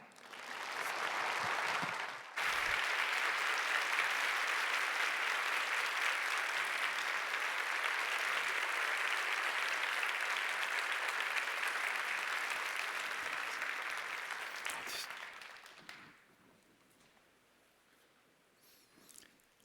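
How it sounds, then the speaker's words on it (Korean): A church congregation at a young adults' worship service applauds to welcome the pastor, with a loud, sustained wash of clapping that runs for about fifteen seconds and then fades away to quiet. "우리 나오실 때 축복을 담아서 큰 박수로 맞이하도록 하겠습니다."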